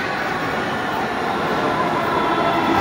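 A metro train arriving at a station platform, a loud, steady broadband rumble and roar that builds slightly over a few seconds, close by.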